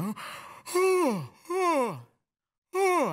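Two drawn-out yawning exhalations, each sliding downward in pitch and ending with a sigh, followed by silence and the start of another.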